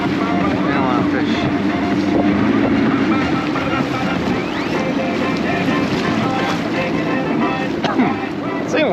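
A 1996 Champion 181 DC boat with a windshield running on open water, steady engine drone and hull rush under heavy wind buffeting the microphone, continuous and close throughout.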